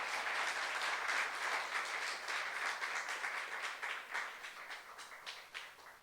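Sustained applause from a church youth congregation during a sermon, a dense wash of many hands clapping at moderate volume that gradually thins and tapers off toward the end.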